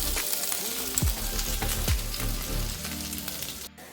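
Folded slices of masala-coated bread sizzle steadily in a hot pan, with a continuous close crackle of frying and a few soft scraping and stirring clicks over it.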